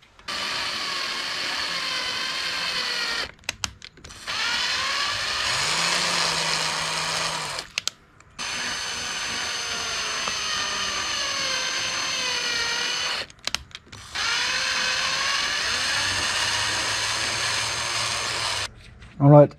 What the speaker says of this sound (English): I had to drill almost half of the whole acrylic spacer here